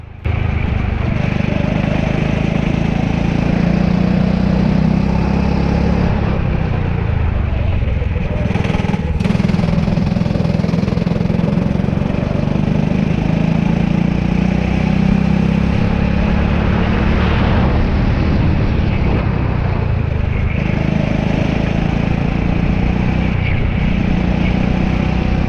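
A go-kart engine drones continuously as it laps a track, its pitch rising and falling through the corners. The engine stays loud and close the whole time, with no talk over it.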